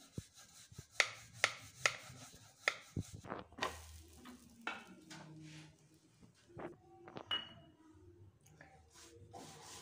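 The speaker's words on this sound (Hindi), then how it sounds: "अब इसका हम पराठा बेल लेंगे।" Stuffed mixed vegetable paratha dough being rolled out in a home kitchen, soft irregular taps and knocks of the rolling pin with rubbing and scraping sounds, close and quiet.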